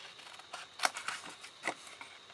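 Scissors snip through paper or card for a drop-sided gift box, a few quiet, crisp cuts in an irregular rhythm, close and faint, with no talking.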